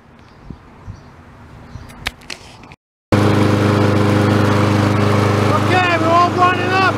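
A Toro lawn mower with a Kohler engine and a newly installed carburetor starts after a brief pause, then runs loud and steady with a constant engine drone. A few faint handling sounds come before the start, and bird calls chirp over the running engine.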